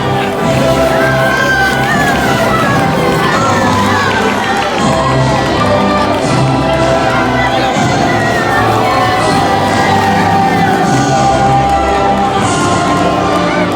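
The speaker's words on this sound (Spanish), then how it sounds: "Fuerte aplauso para los terneros y nenas de España" Stadium spectators at an Olympic Games ceremony cheer and applaud as a national team is welcomed, a sustained, loud crowd roar with shouts and whoops running without pause.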